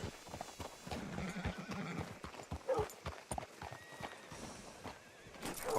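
In Red Dead Redemption 2, a horse's hooves clip-clop unevenly on hard ground as it walks close by, followed by a short neigh and some snorting, fairly quiet and with no talk.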